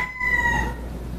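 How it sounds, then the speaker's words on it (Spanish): A rooster crows once, a loud, close, drawn-out call that starts bright and tapers off, heard alone with no talking. "Es a mi amigo Diógenes Peña, que le gusta el canto del gallo"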